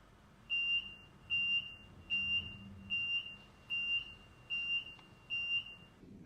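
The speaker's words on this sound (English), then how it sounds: "Should an incident be detected in your carriage, the following alarm will sound." Seven evenly spaced high-pitched electronic beeps of a carriage incident alarm repeat at a steady rhythm over a quiet background hum, aboard a LeShuttle Eurotunnel train.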